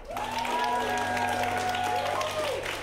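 Improv comedy theater audience applauding to vote for a scene, a dense steady wash of clapping with some cheering and whoops throughout.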